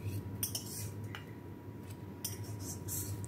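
Fried potatoes scooped from a pan into a bowl at home, a few sharp metal-on-metal scrapes and clinks of a spoon over steady low background hum, close and moderately loud.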